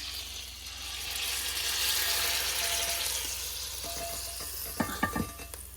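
Hot boiling water sizzles and bubbles in a pan of meat drippings, a broad hissing wash that swells and then fades. A few sharp clinks of a utensil against the pan follow near the end.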